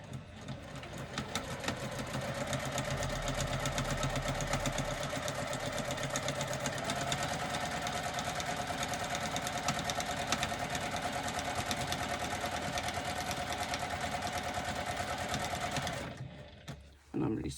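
A sewing machine runs in one steady, fast, continuous stitch for about sixteen seconds, sewing bag fabric and back-stitching to lock the threads, then stops abruptly. Some talk may sit faintly under the whirr.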